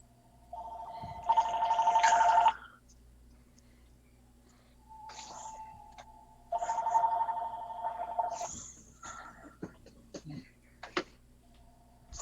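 A phone rings indoors in two long warbling bursts separated by a pause, with people talking around it during a tabletop role-playing game session.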